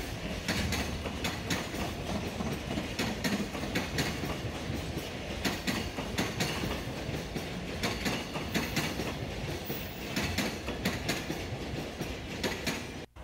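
Freight train 4098 with container cars passes Soga Station, a continuous rumble with steady clickety-clack of wheels over rail joints, loud and close throughout.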